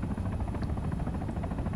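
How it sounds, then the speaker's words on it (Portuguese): A helicopter descends in the ARMA 3 video game, its rotor producing a steady, fairly loud low thrum that fills the whole stretch without a break and with no speech over it. "Ó, tem um helicóptero descendo lá no meio do Ó, helicóptero descendo aí"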